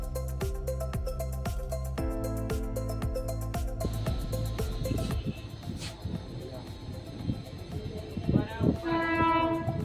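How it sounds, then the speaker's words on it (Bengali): Train crossing the double-decker road-rail bridge near Namo Ghat in Varanasi, a sounding horn in repeated blasts followed by the rumbling clatter of passing carriages, moderately distant, with people talking nearby. "এই একটা ট্রেন আসছে আর উপর দিয়ে গাড়ি ঘোড়া যাচ্ছে"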